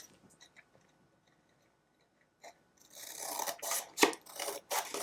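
Scissors with glue-clogged blades trimming a glued paper prayer card holder, a quiet start with faint ticks, then a run of close, crisp rasping snips and cuts.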